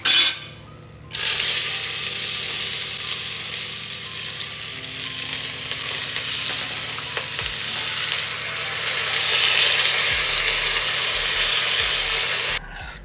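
Washed rice tipped into a hot pan over a lowered flame for veg dum biryani, giving a loud, steady sizzle and frying hiss with light stirring scrapes that runs almost the whole time before cutting off near the end.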